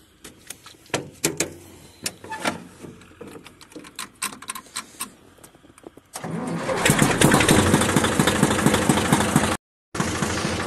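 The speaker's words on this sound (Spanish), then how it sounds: "Qué tractor que camina este" A John Deere 3530 tractor engine clearing brush in the bush: scattered cutting and snapping sounds give way to the engine starting and running loudly and steadily, then cutting out briefly and resuming.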